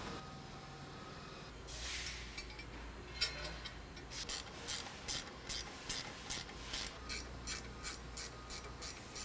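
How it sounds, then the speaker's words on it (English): A ratchet clicks in quick, steady bursts, tightening bolts on the front sway bar of a Tri-Five Chevy, close by after a brief scraping start. "we're gonna go ahead and bolt the bar up next"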